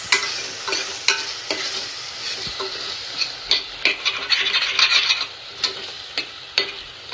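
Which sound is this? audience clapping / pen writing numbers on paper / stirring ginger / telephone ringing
stirring ginger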